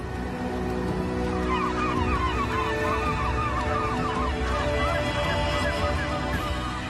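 A crowd of hungry seagulls calls over one another, overlapping squawks and cries against a steady dense background.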